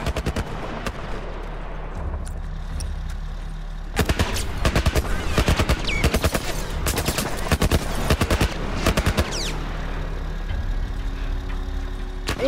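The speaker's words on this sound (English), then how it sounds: "Some kind of military turret" Rapid bursts of heavy automatic fire from a military turret in The Last of Us, hammering in dense volleys for several seconds over a low rumbling game backdrop, then falling away to ambience.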